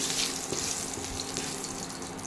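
Garam masala fries briefly in a hot pan, a dense, steady sizzling hiss at close range for a couple of seconds with no voices.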